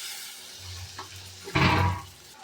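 Chopped medium tomato dropped into a pan of cauliflower fry, giving a sudden louder burst of sizzling around the middle that then settles back to a steady low hiss.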